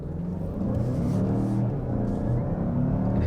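A Mazda CX-5 SUV's engine pulls under acceleration, a steady low rumble and whir heard from inside the cabin that swells slightly after the first half second.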